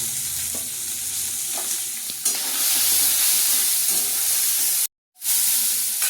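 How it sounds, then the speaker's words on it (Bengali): Soybean chunks frying in a pan with salt and turmeric, a loud continuous sizzle with stirring scrapes, briefly cut off near the end before resuming. "সোয়াবিনটা ভাজা ভাজা হয়ে গেছে"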